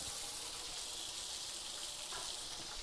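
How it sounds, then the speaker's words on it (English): Cold tap water runs steadily over cooked buckwheat noodles in a strainer, a continuous close hiss and gush without pause. "I run it through the cold water."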